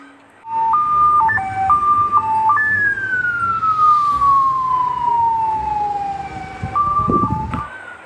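A toy ambulance siren wails loudly and close, stepping through a few two-tone bursts before a long descending sweep, then jumping back up near the end.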